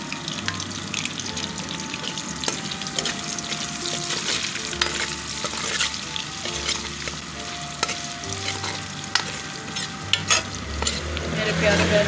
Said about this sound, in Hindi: ऑयल गरम हो गया है, अब इसमें बिस्मिल्लाहिर्रहमानिर्रहीम प्याज शामिल कर दिया।